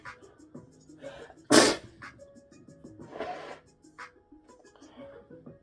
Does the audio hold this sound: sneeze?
yes